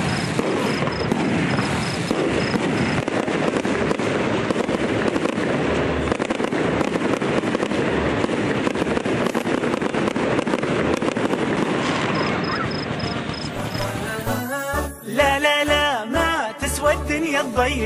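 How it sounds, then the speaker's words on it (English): Dense, continuous fireworks crackle and boom at a hotel launch celebration for about fourteen seconds, loud and sustained, before music with singing takes over at the end. "A night to remember is a night when you do not forget the fireworks."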